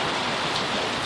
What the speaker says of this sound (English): Bad severe thunderstorm weather